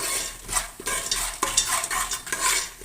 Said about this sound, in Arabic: تمي تحرك، ما تخليهش يحمر.